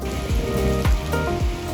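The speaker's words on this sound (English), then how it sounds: "the rain came." Rain falls outdoors on a hillside during a film photography outing: a steady, dense patter that fills the whole stretch, mixed with sustained musical tones, with no speech.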